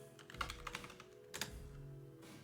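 Typing on a computer keyboard to enter a console command while installing Arch Linux in VirtualBox, a near, quick run of key clicks with a short pause and a final burst, with no talking.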